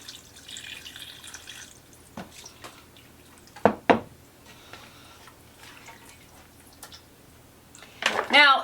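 Liquid is poured over cooled bones in a container for a homemade bonemeal dog treat. Close, scattered drips and small splashes sound with a few clinks, ending in a louder splashy pour.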